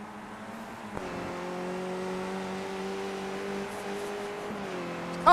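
Skip Barber-style race cars in a sim race run flat out down the back straight at Canadian Tire Mosport. Their engines make a steady, sustained drone that shifts pitch slightly, with no talk over it.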